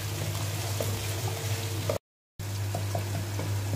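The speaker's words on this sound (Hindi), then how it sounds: "प्याज को मैंने 2 मिनट फ्राई कर लिया है।" Thickly cut onions fry in a pan for a spicy chicken macaroni dish, giving a steady close hiss and crackle of sizzling oil that cuts out briefly before resuming.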